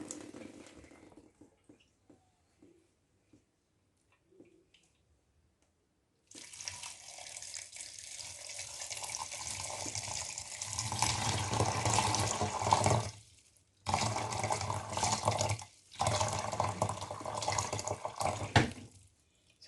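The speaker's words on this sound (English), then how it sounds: "Finally, I'll be draining the water into the beans," Water from soaked sorghum bicolor leaves being drained into beans for waakye, a splashing, gurgling pour that starts after a quiet stretch and runs in bursts with two brief pauses, close and moderately loud.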